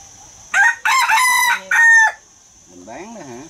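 An American bantam rooster crows in loud, harmonic bursts close by on an orchard farm, followed by a softer trailing call as background hum continues.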